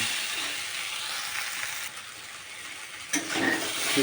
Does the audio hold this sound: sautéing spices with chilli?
yes